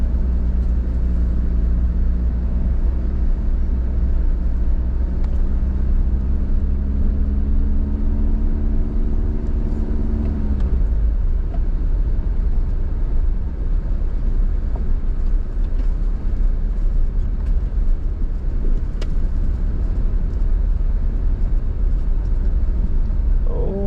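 Skoda Yeti Eco with a 2-litre turbo diesel engine driving along a rural green lane among trees: a loud, steady low engine drone and cabin rumble, pitch gently shifting with throttle, continuous throughout with no talk.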